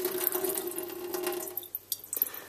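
Watery tomato seed pulp is poured off from a container, a close trickling pour that thins out into a few separate drips and splashes at the end.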